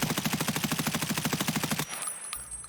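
An M4 rifle fires full-auto in the video game Escape from Tarkov, a loud, rapid, evenly spaced burst of about twenty shots that cuts off abruptly, leaving a faint echoing tail.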